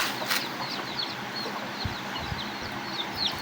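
Chickens cluck and chirp softly at a distance, scattered calls over a low background hum, no voices.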